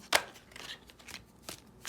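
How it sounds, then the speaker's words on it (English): A tarot deck is shuffled by hand, giving a few soft, quick card riffles and slaps close by in an otherwise quiet room. "Let's pull some cards. Let's shuffle and ask for Virgo."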